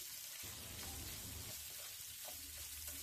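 Pork pieces frying in a pan, a continuous dense sizzle and crackle with bubbling spatter, steady and close throughout with faint low rumbles underneath.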